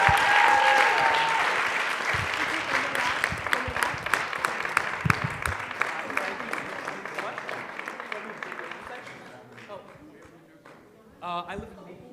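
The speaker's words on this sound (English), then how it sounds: "Let's have a big round of applause" Loud, dense applause from a concert audience, sustained for about ten seconds before thinning and fading, with a short burst of clapping near the end.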